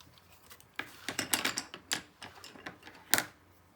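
Coloured pencil scratches across paper in quick irregular strokes, close and fairly quiet, with short bursts of scribbling and brief pauses between them.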